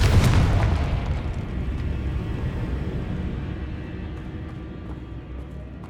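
The Confringo fire spell going off in Hogwarts Legacy, giving a deep booming explosion that hits at the start and then rumbles and slowly fades over several seconds, loud with no talking.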